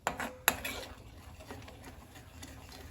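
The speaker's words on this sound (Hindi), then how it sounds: "इसलिए हम इसे थोड़ा थोड़ा करके मिलाएंगे और चलाते रहेंगे लगातार।" Spoon clinking against a pot while besan is stirred into milk, two sharp metallic knocks early, then softer scraping and stirring that fades to quiet.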